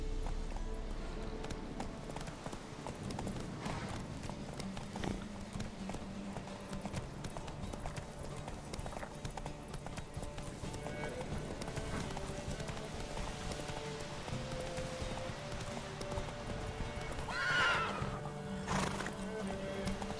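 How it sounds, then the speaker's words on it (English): Horse hooves clip-clopping at a steady galloping rhythm in The Witcher 3 video game, with a loud neigh near the end and a voice speaking briefly over the steady hoofbeats. "Stupid horse."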